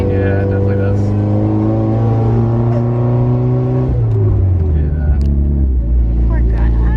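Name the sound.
Mitsubishi Evo with failing turbo whining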